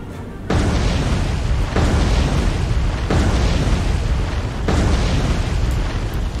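Torpedoes striking a ship in the naval video game War on the Sea, heard as a series of four loud, deep, rumbling explosions in quick succession, each blast running into the next with no pauses of quiet between them.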